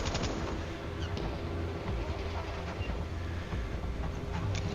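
Dense, continuous gunfire and battle noise in the video game Battlefield V, a thick rumbling wall of shots and explosions with no pauses.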